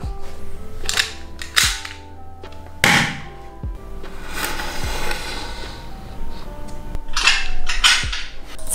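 Foley props are struck close to the mic in several sharp, loud cracks meant to mimic a gunshot, over a rattling, clattering background of handled objects and a faint hum.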